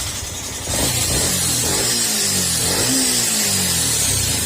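A noisy Yamaha Sniper 150 motorcycle engine, suspected of a rocker arm or timing chain tensioner fault, runs steadily close by with a rough, busy mechanical clatter under its idle and no talk over it.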